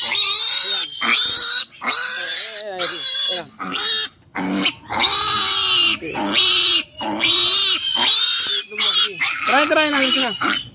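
A pig squeals loudly and repeatedly while being castrated, shrill cries coming in long bursts with short gaps, close by, with people talking over it.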